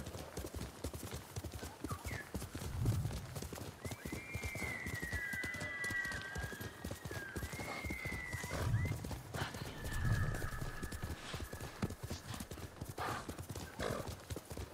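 In the video game Ghost of Tsushima, hooves clip-clop in a steady galloping rhythm while a horse whinnies a few times.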